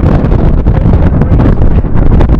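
Strong mountain wind on Aconcagua buffets the microphone in loud, continuous gusts with a dense roar and no pauses.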